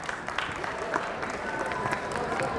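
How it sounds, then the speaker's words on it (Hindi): An audience at a book fair stage in New Delhi claps, a moderately distant, steady patter of applause continuing for a few seconds with a voice faintly underneath. "मैं चाहूँगा जोरदार तालियों से हम मंच पर बुलाएं।"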